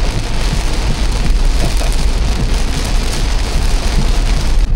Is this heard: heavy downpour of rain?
yes